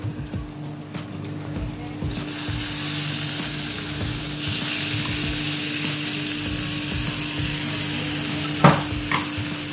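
Chicken stir-frying with garlic in a pan for fried rice: steady loud sizzling with scraping and tossing from a spatula, continuous throughout, with a few sharper clanks near the end.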